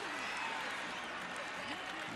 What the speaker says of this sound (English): You can start to hear the crowd be a little disgruntled.